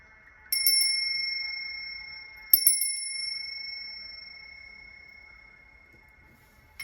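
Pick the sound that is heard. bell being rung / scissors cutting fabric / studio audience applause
bell being rung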